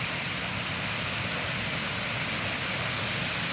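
A hidden forest waterfall near Rourkela gives a steady, broad rushing roar of falling water, constant and unbroken throughout with no voices.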